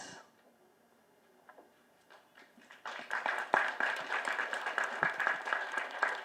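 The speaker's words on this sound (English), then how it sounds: "the sound of the clap is very mild" Scattered light claps at first, then a crowd in a full hall at a nursing awards ceremony breaks into steady, moderate applause that carries on to the end.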